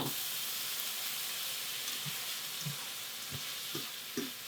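A batch of vegetables frying in a little oil for a hot and spicy curry, a soft continuous sizzle with a few faint low knocks as the pan is moved, quiet and steady.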